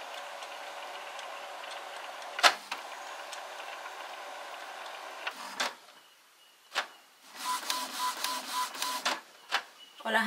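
An inkjet printer being converted for sublimation clicks and whirs as its carriage moves over for ink cartridge replacement, with mechanical ticks and a motorized run of buzzing movement toward the end.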